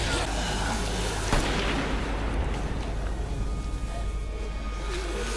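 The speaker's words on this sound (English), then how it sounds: "it was the gunshot of Rick's" A single loud gunshot from The Walking Dead cracks out of dense, continuous noise and rumble, with a voice faintly audible beneath the roar.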